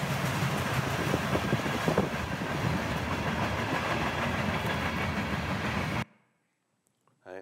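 A train passes on the railroad right beside a building site, a loud close rumble with rhythmic clatter that cuts off abruptly, followed by a brief faint sound.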